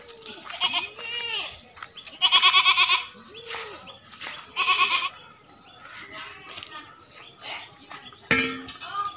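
A goat bleats several times, loud and close, in a few separate bursts spaced across the clip, with people talking in between and a brief clink near the end.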